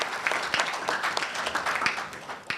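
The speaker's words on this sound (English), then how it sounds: "A round of applause for Professor Asumeni." Audience applause for a professor at the launch of the NSMQ 2021 national competition, a full steady burst of crowd clapping with a few sharper individual claps standing out.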